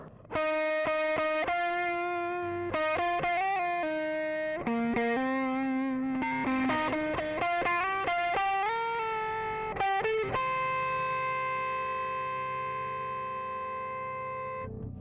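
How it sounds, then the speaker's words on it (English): Bass guitar played through an Xotic Bass RC Booster distortion pedal, with a run of sharply picked, distorted single notes and slides ending on a long sustained note that slowly fades, no voices present. "I can switch immediately from the distortion sound to the bass sound"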